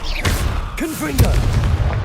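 Confringo blasting spell in Hogwarts Legacy: a loud explosive boom burst with sharp bangs and crackling impacts, followed by a second blast and whooshing magical swirls, all dense and close.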